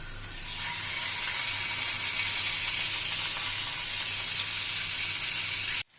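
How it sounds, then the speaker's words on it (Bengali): Pieces of katla fish fry in hot oil with a steady, loud, close sizzle that holds evenly for several seconds, then cuts off abruptly at the end. No voices are heard. "তেলটা গরম হয়ে গেছে মাছগুলো দিয়ে দেবো"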